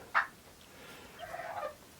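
Farm fowl calling, with one sharp, loud squawk followed a second later by a fainter, drawn-out warbling gobble-like call over quiet background.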